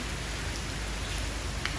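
Steady heavy rain pours down outdoors, a dense even wash of patter that stays constant throughout, close and moderately loud.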